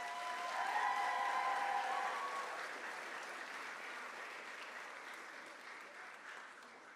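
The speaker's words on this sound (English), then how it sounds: "Can we give her a round of applause?" An audience at a fifth grade moving-up ceremony applauds a staff member, a dense, even wave of clapping that peaks early and slowly fades, with brief vocal tones near the start.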